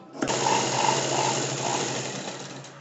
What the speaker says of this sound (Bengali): এবারে এর ওপর থেকে একটা সেলাই চালিয়ে দেবো